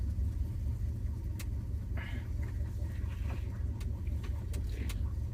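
A 1976 Ford F-150 Ranger engine turns over and runs as a steady, close, low rumble, with a few faint ticks and clicks over the idle.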